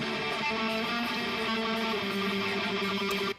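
A mix of live metal guitars through a Waves Renaissance limiter with a touch of plate reverb. It is a dense, sustained wall of distorted sound at constant loudness that cuts off abruptly at the end, with no talking.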